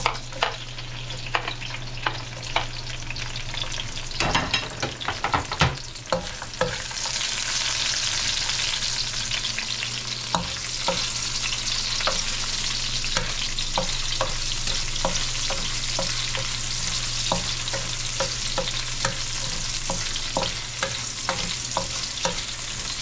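Onion frying in a hot pan, a steady close sizzle under a low hum, with scraping stirs and clatter early on and occasional small ticks of the spatula as it cooks.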